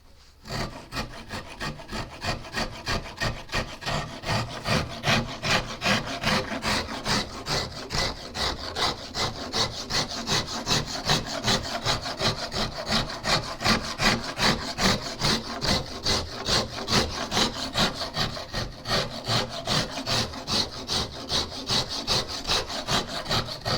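A wooden guitar neck being rounded over by hand with steady, rhythmic rasping strokes, each a close, gritty scrape, repeating evenly for the whole stretch with no voices.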